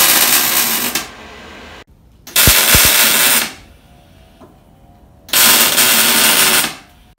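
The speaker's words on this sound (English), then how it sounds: "We've now tacked up all of the frame" Steel frame corners being tack welded, three bursts of loud crackling buzz separated by quiet pauses, close by.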